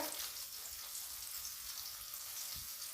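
Garlic sautéing in a pan for a horse gram rasam, giving a steady, close, hissy sizzle that goes on without a break and has no talk over it.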